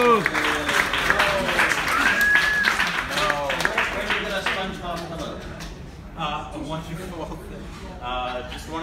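Fan meetup audience in Hong Kong applauding, clapping mixed with crowd voices and laughter that starts loud and thins out toward the end.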